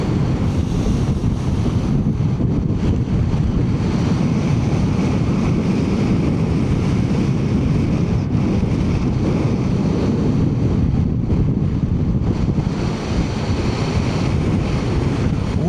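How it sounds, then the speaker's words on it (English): Constant loud wind buffeting on a motorbike ridden along the Orkney coast in winter, a steady low roar filling the whole stretch without letup and with no talking. "the wind on the bike is quite something when you're riding around right around the coast"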